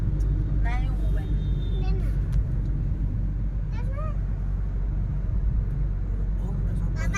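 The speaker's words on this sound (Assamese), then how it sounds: "এয়া শ্বিলঙৰ ৰাস্তাত আমি গাড়ী আছো" A car drives along the road to Shillong, giving a steady low engine and road rumble throughout with brief higher chirps over it, while people talk inside the vehicle.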